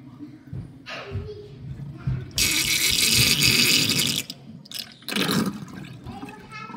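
A household sink drain gurgles and rushes with water in loud bursts, with a long sustained surge in the middle and a shorter one near the end, over a low rumbling background.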